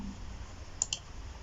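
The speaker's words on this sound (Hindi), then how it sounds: "इस पे करेंगे क्लिक" Two faint, close computer mouse clicks in quick succession over a quiet room background, no one speaking.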